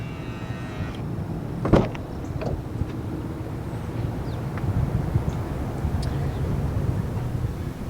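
A 2021 Mazda CX-5 unlocks with a short mechanical clunk after a press of its black door-handle button, then the door opens with a faint latch click, heard close against steady outdoor background noise.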